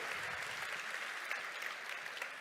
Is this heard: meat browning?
no